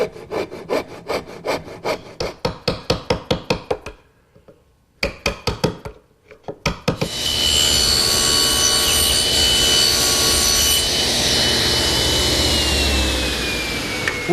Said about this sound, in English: make a couple saw cuts down to my layout lines